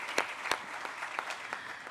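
A short round of applause from the audience at a hospital groundbreaking ceremony, scattered clapping with a few sharp nearby claps standing out.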